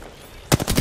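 Burst of automatic gunfire in the Apex Legends battle royale, a quick string of loud close shots that rattles in after a quiet half-second.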